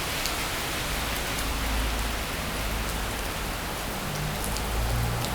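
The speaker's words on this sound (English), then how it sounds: "This is the rainy day in Tokyo." Steady rain falls on a rainy day in a Tokyo park, a dense, even hiss of drops on surfaces that stays constant and fairly close throughout, with no voices.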